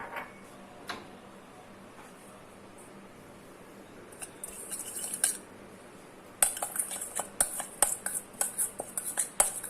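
A moong sprouts salad with toasted sesame seeds is mixed in a bowl with a spoon, giving quiet scraping at first, then a run of sharper, irregular clinks and taps that grows louder toward the end, with no talking.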